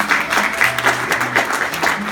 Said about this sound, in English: You can all applaud for that accomplishment.